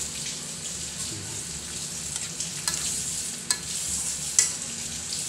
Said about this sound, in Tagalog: halo-halo lang, mekos-mekos